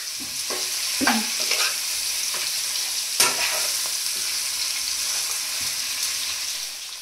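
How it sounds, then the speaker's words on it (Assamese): Marinated local chicken meat sizzles steadily in hot oil in a pan while being stirred, with scraping and clattering stir strokes rising above the constant close frying hiss; no one speaks. "গোটেই মাংসখিনি দি পিনে ভালকে মাংসখিনি ভাজি ল'ব লাগিব।"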